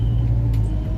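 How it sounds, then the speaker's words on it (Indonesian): A Kia Sportage 4x4 cruises a toll road at 80 km/h, heard as a steady low cabin rumble with road noise and no talking. "pakai Kia Sportage ini kecepatan 80 km per jam"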